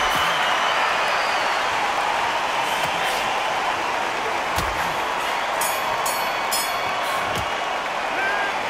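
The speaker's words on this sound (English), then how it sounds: "Ooh, listen to that crowd. Nobody's happy with that." Crowd noise in the Undisputed boxing video game after a bout ends in a draw: a steady, loud wash of arena crowd murmur and reaction throughout, with a few brief sharp knocks.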